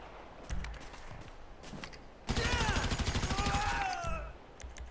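Video game gunfire crackles in a dense rapid burst through the middle seconds, loud and close, with softer shots and footstep-like thumps around it and whistling tones over the volley.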